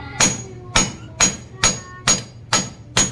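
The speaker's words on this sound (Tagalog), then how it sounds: "Gamitan natin ng martilyo." Seven sharp, heavy hammer blows strike hard firewood at a steady pace, each a loud close thud with a ringing crack, with no talk.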